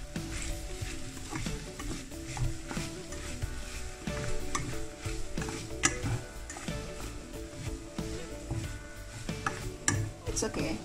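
Noodles go into a pot for a creamy one-pot noodle and cheese dish and are stirred, giving continuous scraping and soft sizzling with irregular clinks of a utensil against the pot, fairly close and steady.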